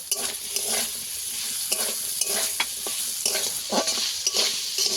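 Fried potatoes sizzling in a pan as ginger paste goes in, a steady close sizzle broken by repeated scraping stirs of a spatula in a loose rhythm, with no talking.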